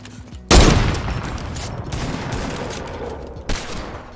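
A sudden loud burst of gunfire erupts in a Fortnite match, its echo trailing off into a rumbling tail, then a second shorter shot follows near the end.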